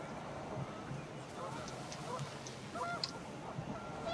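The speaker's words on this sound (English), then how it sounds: "The wind picked up, and panicked geese appeared and quickly went" Panicked geese honking in the video game What Remains of Edith Finch during a windy stormy scene, a scatter of faint, short honks over a steady windy rush, with a voice talking over them.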